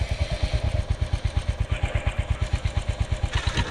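Video game motorcycle engine chugs in a steady, rapid rhythmic putter, loud and close, idling or cruising evenly throughout with no talk.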